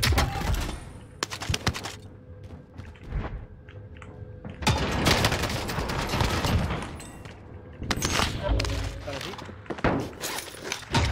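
Bursts of automatic gunfire and single sharp shots crack through a Call of Duty Warzone match in loud clusters separated by brief quieter gaps, with a voice talking between the volleys.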